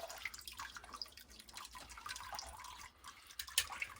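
Water dripping and trickling from a soaked bag being wrung out by hand, a close, steady patter of drops and small splashes with a brief louder splatter near the end.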